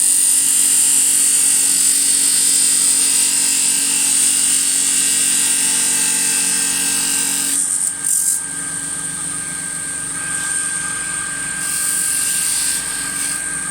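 A juniper bud vase spins on a wood lathe as a tool makes a relief cut, producing a steady high-pitched whine with tonal hum, shifting slightly in character partway through as the cut changes.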